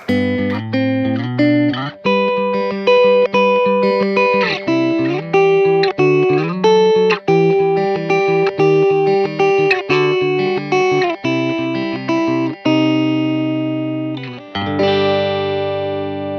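Electric guitar picking broken chords, notes ringing into each other in a steady arpeggiated pattern with a wet, effected tone, played alone for the whole stretch.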